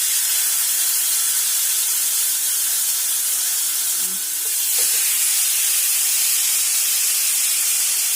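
Chicken tikka hitting hot oil in a small pan over a medium flame, giving a steady, loud hiss of sizzling that runs unbroken throughout.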